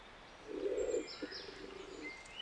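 Bolle's pigeon, a Canary Islands laurel-forest species, gives a low cooing call in two close phrases over faint background bird chirps and forest ambience.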